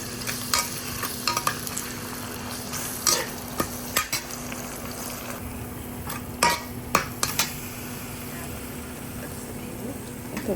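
Vegetables are stirred in a hot pan with oyster sauce, giving steady sizzling and frying under repeated scraping and clinking of a utensil against the pan, close and continuous throughout.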